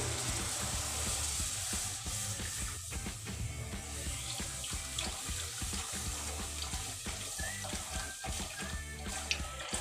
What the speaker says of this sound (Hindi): इसमें मैं दूध डाल दूंगी